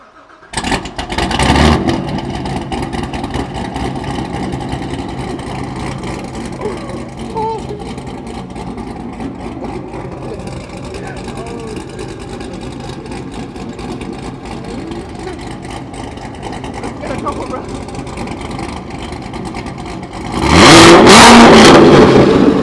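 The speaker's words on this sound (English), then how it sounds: "let's hear this exhaust" A cammed, supercharged Corvette Grand Sport with aftermarket exhaust, heard as a short loud rev burst, a long rough lumpy idle, then a hard roaring rev near the end.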